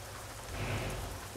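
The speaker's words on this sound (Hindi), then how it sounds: "अरे बारिश बंद हो जा भाई" Heavy rain pours steadily in Euro Truck Simulator 2 while a Ford F Max truck drives through it, a dense, continuous hiss with a slight swell midway and no voices.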